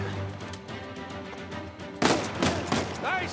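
Gunfire in the video game Uncharted 4 on PlayStation, a burst of sharp shots and impacts that erupts after a stretch of busy game background noise and keeps crackling amid the action.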